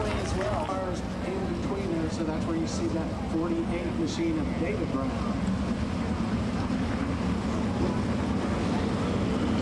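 Sprint cars from an ASCS Warrior race at Valley roar around a dirt track at a green flag restart, a steady loud engine drone with rising and falling pitch, under continuous race commentary.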